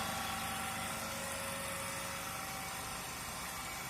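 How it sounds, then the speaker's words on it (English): A three-phase induction motor runs at no load at about 1494 rpm, giving a faint, steady electrical hum with a constant whirring drone and no change over the whole stretch. "we can see the direction of rotation of a motor. It is rotating in anti-clockwise direction"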